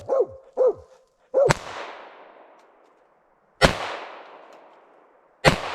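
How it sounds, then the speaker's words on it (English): A handgun fired at a small bucket about 15 yards off during a squirrel hunting outing, three loud sharp cracks spaced a couple of seconds apart, each trailing off in an echo, with a dog barking twice beforehand. "I'm gonna make sure my gun still works and, you know, shoot it over there to a little bucket"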